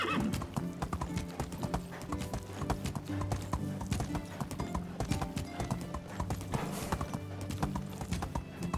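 Horse hooves clip-clop steadily in Medieval Dynasty as a horse is ridden, a brisk continuous rhythm with an occasional whinny, heard close and clear over the game's ambience.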